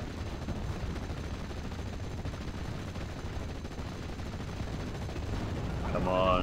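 Dense gunfire rattles continuously in the World War II strategy game Steel Division: Normandy 1944, a rough crackling roar that swells slightly near the end, with a faint voice at the close.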